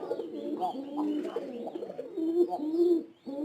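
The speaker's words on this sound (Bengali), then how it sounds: "এই ডাকি এরকম ডাকি আর কি কবুতরে" Pigeons cooing close by in a loft, with low rolling, throaty coos repeating continuously and overlapping for several seconds.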